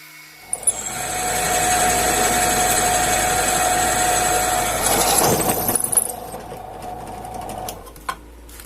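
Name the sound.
drilling holes in cast iron coupling of T-25 tractor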